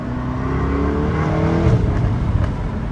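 A V8 sports car engine rumbles steadily up close, with a few sharp exhaust pops and crackles breaking through near the end.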